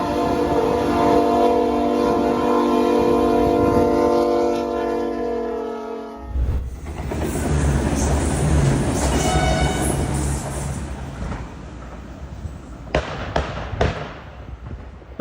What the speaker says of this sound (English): This Iowa interstate train blasted through the snow like a boss.